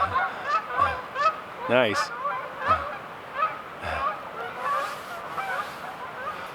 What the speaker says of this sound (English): All right, there's some geese flying over me.